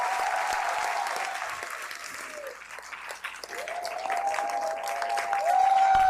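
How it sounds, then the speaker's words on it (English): An audience claps for the founders of the Haitian Ladies at a special session, steady applause that swells toward the end, with faint tonal ringing underneath. "help me to give a round of applause to the 9 founders of the Haitian ladies sitting on that table"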